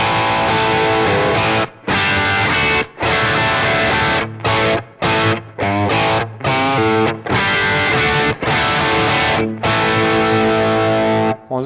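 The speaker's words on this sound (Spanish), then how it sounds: "tiene este amplificador que es un tipo Marshall, tiene una ecualización, tiene noise suppressor y tiene una reverb" An electric guitar plays through a Marshall-type amp preset with reverb on a Nux MG-300 multi-effects unit, giving loud distorted chords in rhythmic bursts separated by short clean stops, with no talking.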